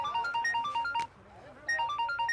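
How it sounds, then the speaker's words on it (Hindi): An electronic phone ringtone plays a bright repeating melody, pauses briefly, then resumes the same looping tune. "ना हिटलर का फोन।"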